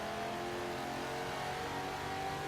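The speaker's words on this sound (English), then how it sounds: "Hitting that e-brake, just getting her a little bit sideways" A 1996 Impala SS police interceptor build in Forza Horizon 4 sits under a steady, continuous engine drone that holds at an even, loud level throughout as the car is thrown sideways on the e-brake, with no talking.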